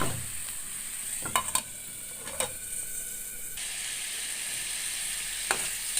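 Shrimp going into hot spiced oil in a pan, a continuous loud sizzle with a few sharp clacks and scrapes of a spatula as they are stirred, close and without speech.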